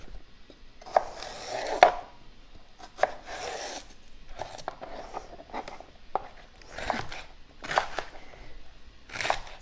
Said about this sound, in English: So I'm just gonna wash these and chop them now.